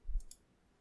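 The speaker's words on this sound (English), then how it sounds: "Click on allow." A single quick computer mouse click, a brief close double tick with a soft thump, then quiet.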